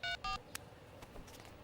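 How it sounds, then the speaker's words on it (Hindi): Two short bursts of phone keypad dialing tones, close and clear, followed by a quiet click and faint room hiss, with no talking. "रुको, मैं कॉल करके देखती हूँ।"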